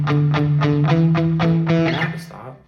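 Distorted guitar bass line played through a Quad Cortex, about eight punchy repeated notes at an even pulse, loud and close, then a final note that rings out and fades.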